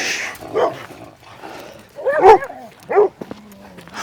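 Puppies on a hiking trail let out a few short barks and yips with thin whimpers between them, close and fairly loud against a quiet outdoor background.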